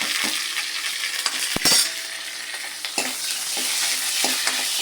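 Onions sauté in a pan with a constant sizzle, broken by a few sharp stirring scrapes and a metallic clink of the spoon against the pan; no talk.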